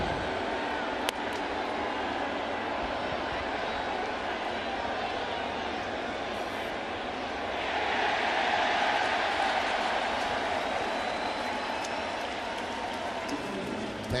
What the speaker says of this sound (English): That's why you hear that cheer.